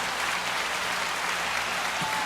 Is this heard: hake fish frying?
no